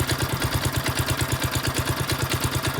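A freshly started engine idles with a steady, rapid, even chugging pulse, close and continuous, with no voices.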